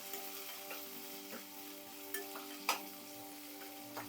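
Onion, garlic and small coconut pieces sauté in a pan for a tomato kuzhambu, giving a steady quiet sizzle broken by a few soft scraping stirs.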